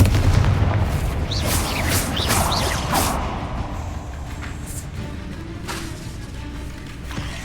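Confringo blasting spells erupt in the Hogwarts Legacy video game, a rapid series of booming blasts and whooshing swipes, loud at first and then thinning into scattered cracks and lingering rumble.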